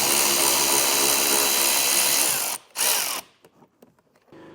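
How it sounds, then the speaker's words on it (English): An electric ratchet whines loudly and steadily while removing bolts on a 2022 Jeep Grand Cherokee WL, cuts out, gives one short final burst, then falls quiet apart from a few light clicks and handling noises. "So I have a electric ratchet here, so it makes it easy for me."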